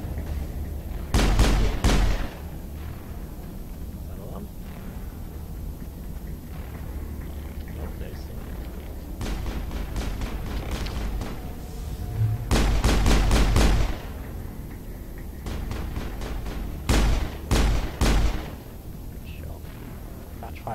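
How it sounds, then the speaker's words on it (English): Bursts of gunfire from a Mass Effect firefight come in several clusters of rapid shots, loud and up close, with someone talking between them over steady game background. "I'm being shot at."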